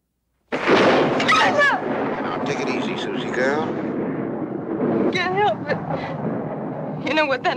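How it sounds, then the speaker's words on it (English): A sudden loud crack of thunder breaks into a long rolling rumble, with voices speaking over it. "What thunder does to me."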